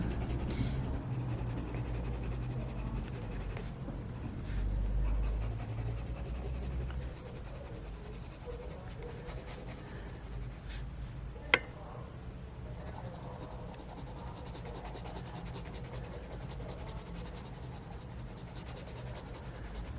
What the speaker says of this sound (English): I'm just going to shade it with this brown pencil.